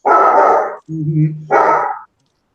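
German Shepherd barking nearby: two loud, deep barks separated by a lower growling whine, then silence.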